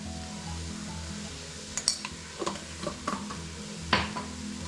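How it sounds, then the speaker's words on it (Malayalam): Onions frying in a pan for a Kerala tea-time snack, a steady low sizzle under several scraping stirs and light clinks of a utensil against the pan, close and alone without talk. "ഇനി ഇത് ഇളക്കി കൊടുക്കാം. നമ്മൾ ഉള്ളി നന്നായി ഫ്രൈ ആയി വന്നിട്ടുണ്ട്."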